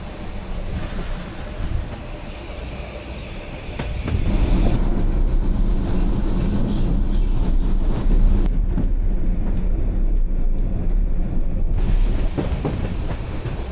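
Budapest Children's Railway train rolls into Huvosvolgy station with a steady rumble and rattle of wheels on track, growing louder and heavier partway through, then easing slightly near the end, with no talking.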